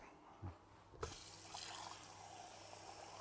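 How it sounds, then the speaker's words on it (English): A tap is turned on after a couple of soft knocks, and water runs steadily into a jug with a close, even rushing flow. "so I need some water. Let's get the water jug out."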